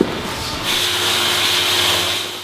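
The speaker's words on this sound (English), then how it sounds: "industrial grinders are quickly brought in to speed up the process" Industrial grinders running on an aquarium construction site, a steady loud whine that rises in pitch and intensity after a brief start, continuing without pause.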